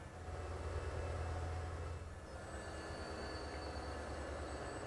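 A steady rumbling train roll in the game Transport Fever 2, with metallic rail noise and faint high squeals, continuous throughout with no talking.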